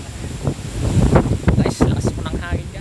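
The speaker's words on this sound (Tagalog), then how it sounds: "lakas po ng hangin" Strong wind gusting and buffeting a microphone, rough and loud throughout, with voices talking underneath.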